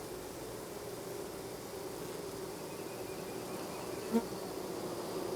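Honeybees drone steadily inside an open hive, a soft, even, continuous buzz close by with a brief light knock near the end and no talking.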